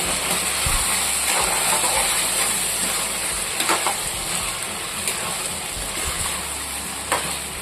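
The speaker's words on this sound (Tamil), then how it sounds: "முருங்கைக்காய் சேர்த்து ஒரு ரெண்டு நிமிஷத்துக்கு நல்லா வதக்கிக்குவோம் எண்ணெயில்" Steady loud hiss of drumstick vegetable sautéing in hot oil, with occasional crackles and pops throughout, close up and continuous.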